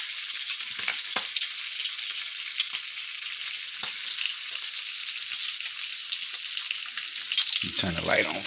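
Applewood bacon frying in a pan, a steady close crackling sizzle with dense spitting pops that runs unbroken, plus a brief low knock near the end.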